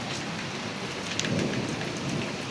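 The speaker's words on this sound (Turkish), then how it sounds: "Dolu yağıyor böyle." Hazelnut-sized hail pelts down during a thunderstorm in Istanbul, a dense, continuous hiss of impacts with a few sharper clicks, fairly quiet and unbroken by talk.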